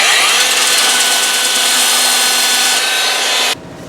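A belt sander grinds steadily and loudly against the wood of a vintage guitar neck being copied, a continuous close abrasive roar that cuts off abruptly near the end.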